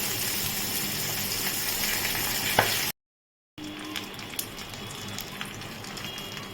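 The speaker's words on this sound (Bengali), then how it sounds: "ঠিক আছে একটু ভালো করে ভেজে নিই" Steady, close sizzling of a rohu fish head frying in hot oil, a dense crackling hiss that cuts out briefly before resuming with occasional pops.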